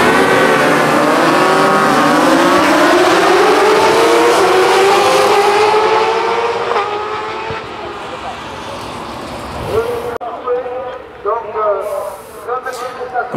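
600cc racing motorcycles in a Promosport race pull away for the warm-up lap, their engines loud and close as they rise in pitch, then fade into the distance while someone talks over them.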